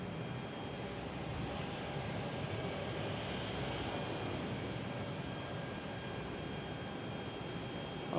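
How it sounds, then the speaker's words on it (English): An Air Canada airliner arrives on runway 22 left at Boston Logan, its engines making a steady broadband roar that holds even throughout, with no voices. "And next to arrive, I think is that Air Canada."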